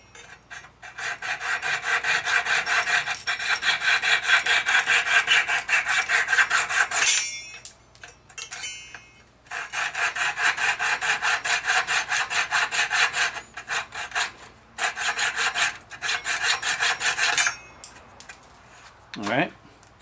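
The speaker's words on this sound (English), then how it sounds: "What I have is a little handsaw here, and what I'm going to do is just cut these off flush." Small handsaw cutting wooden dowels off flush on a dining room chair being reglued, clamped on a workbench: steady rhythmic rasping strokes, loud and close, in bursts with short pauses, ending with a brief scrape.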